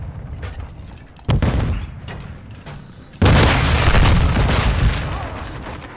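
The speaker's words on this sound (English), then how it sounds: "Hostiles launched a cruise missile." Cruise missile explosions in Modern Warfare 2 gameplay: two heavy booms, the second louder and sustained with a long rumbling roar, over background game noise and gunfire.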